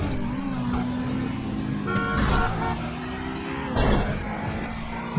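A car driving in GTA V, its engine humming steadily with rising and falling pitch as it revs, plus a couple of brief louder bursts of traffic noise, with no talk.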